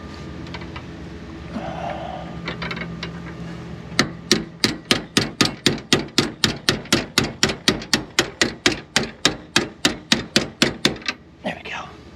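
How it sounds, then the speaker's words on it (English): A hammer taps on a socket to drive RV suspension shackle pins through their bushings, about thirty sharp metallic blows in a fast, even rhythm, close and loud, after a quieter opening with faint background noise. "the way I'm getting them through is I'm taking a socket on the back so I don't damage the grease fitting, and just kind of tapping them"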